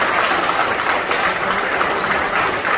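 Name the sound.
audience applause at defence conference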